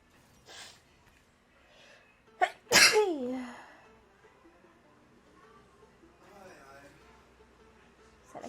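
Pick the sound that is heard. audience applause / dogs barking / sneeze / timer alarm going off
sneeze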